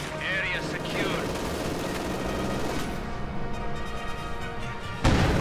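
Bursts of MG42 machine gun fire in the Company of Heroes 2 video game, mixed with other battlefield gunfire and explosions, rattling continuously under a commentator's voice.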